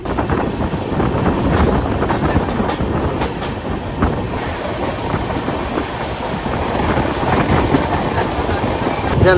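Humsafar Express rolling along the tracks near Ankleshwar and Bharuch, heard from on board: a steady, loud rumble with rhythmic wheel clatter and gusting wind noise.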